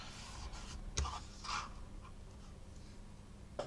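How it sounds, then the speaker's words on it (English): A piece of card about 20.3 by 8.9 centimetres is folded in half, giving soft paper rustles and a couple of brief creasing sounds close by in a quiet room. "The first thing we're going to do is fold this piece in half."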